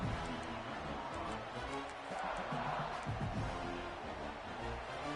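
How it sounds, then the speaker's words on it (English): Steady, dense crowd roar from a college football stadium crowd in a video game fills the whole stretch, a continuous wash of many voices with scattered rhythmic thumps underneath, loud and sustained. "here comes the noise. This crowd is trying to inspire this defense"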